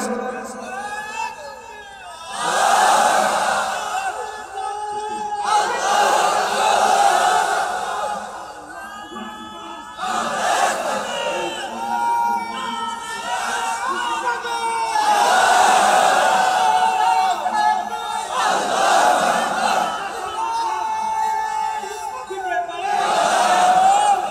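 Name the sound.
crowd chanting religious slogans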